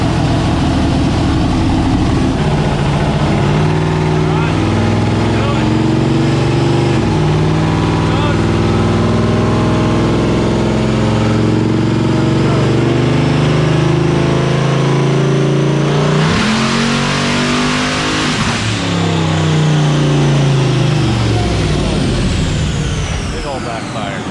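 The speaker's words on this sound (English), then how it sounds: "That was rev limiter? Sure sounded like it." A boosted car engine revving hard on a dyno, a loud sustained roar climbing through the revs and bouncing off the rev limiter before cutting out, with people talking over it.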